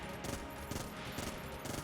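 Rapid automatic gunfire from a Vulcan cannon in the video game Enter the Gungeon, dense crackling bursts that repeat about every half second at a steady, fairly loud level.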